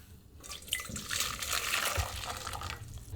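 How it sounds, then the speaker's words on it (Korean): Boiling water is poured out of a wok in a steady rushing, splashing stream that swells and continues for a few seconds. "끓는 물을 버리세요."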